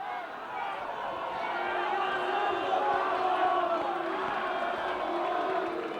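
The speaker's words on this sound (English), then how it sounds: "The crowd not too agreeable on that call" A basketball crowd at a 1980 CIS men's game, Brandon vs Lakehead, reacts to an unpopular goaltending call with a sustained, rising roar of boos and shouts in the arena, heard beneath the broadcast commentary.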